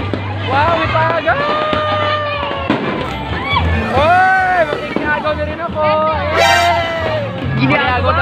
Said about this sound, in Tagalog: May fireworks na doon, dire-diretso.